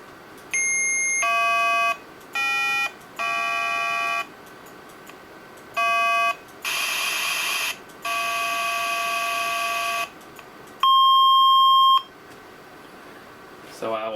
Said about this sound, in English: I can poke the registers and make square waves and noise waveforms